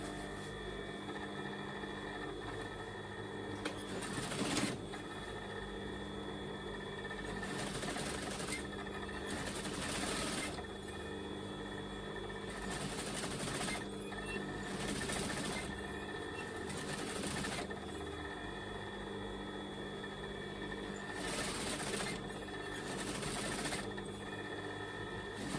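Sewing machine stitching a satin pillowcase, a steady mechanical whirr running in repeated bursts of several seconds with brief pauses, fairly quiet and continuous throughout.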